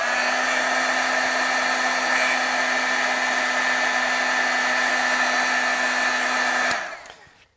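A handheld heat tool blows steadily at close range, a loud continuous whoosh with a faint motor hum, drying splattered paint on a stamped card before cutting off abruptly near the end.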